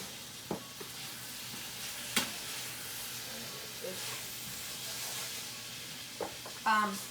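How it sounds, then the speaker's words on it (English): Squash flowers frying in a pan give a steady, fairly quiet sizzle and hiss, broken by a few sharp clicks and knocks of a utensil against the pan. "I think we're gonna fry some squash."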